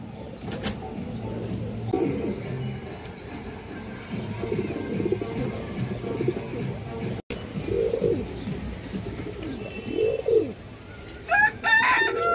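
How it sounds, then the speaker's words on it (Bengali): Pet pigeons kept for sale, including large green-eyed and khaki breeds, coo in low repeated throaty phrases close by, with a brief rooster-like call and other bird noise in the background. "ফুল মুস্তির কবুতর"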